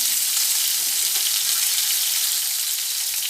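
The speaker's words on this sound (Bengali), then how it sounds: "রসুন পেঁয়াজটাও আমি ভেজে নেব" Onion frying in a pan with garlic alongside, a loud, dense and unbroken sizzle held at an even level throughout, with no voices.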